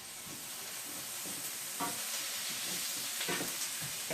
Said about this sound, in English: put in my chopped onions. I'm going to stir them around a little bit.